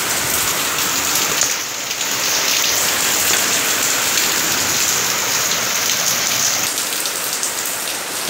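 Heavy monsoon rain pours over a flooded town, a dense, loud, steady roar of drops striking surfaces and water, unbroken throughout with no voices.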